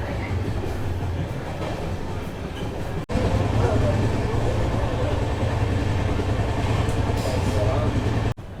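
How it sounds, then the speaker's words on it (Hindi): Visakhapatnam-Araku train with a Vistadome coach pulling out of its fourth halt, a loud steady rumble and rattle of the rolling carriages with faint clickety-clack, heard from inside the coach. "सो इस ट्रेन का अब हम लोग 4th हॉल्ट डिपार्ट कर रहे हैं कोतसलवा"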